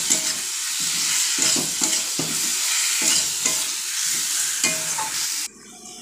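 Taro corms and potato stir-fry in a spice paste with steady, close sizzling and the repeated scrape of a spatula stirring the pan, the frying dropping away sharply near the end.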